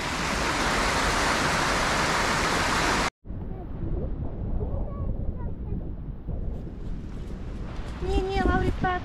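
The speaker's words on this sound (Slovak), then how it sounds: "Šutovský potok, to je voda, ktorá ide z toho vodopádu, na ktorý sa ideme pozrieť." Rushing water of the Šútovský stream flowing down from a mountain waterfall, a loud broadband roar that cuts off abruptly, then returns quieter beneath people talking nearby.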